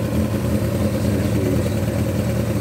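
A Yamaha XJ600F motorcycle engine idles steadily with a dense, even mid-pitched rumble, loud and near, with no voices.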